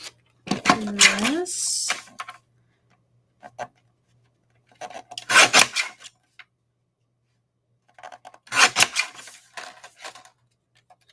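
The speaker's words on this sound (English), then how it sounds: "So I'm going to cut" Scissors cut through paper card stock while making a paper rose card, a few crisp snipping bursts separated by pauses, with a voice talking briefly at the start.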